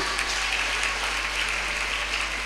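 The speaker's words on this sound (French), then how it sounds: "On les acclame très fort, merci." Applause from an audience at a parish pastoral gathering in Gomon, steady dense clapping throughout with no gaps, fairly loud and continuous.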